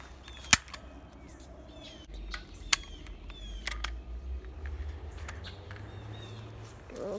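A stapler fired at a foul-smelling fungus outdoors gives a couple of sharp, loud snapping clicks, with fainter ticks scattered between them over quiet outdoor ambience.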